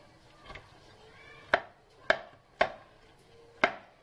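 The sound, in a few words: piercing and cleaning raw chicken with a knife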